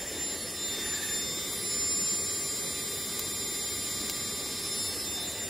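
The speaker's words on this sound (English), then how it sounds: "Another good use for this pump, though." An air pump blows onto a wet, smoky campfire of dry grass and heather in a flooded winter valley, giving a steady, close rushing hiss that swells slightly in the middle.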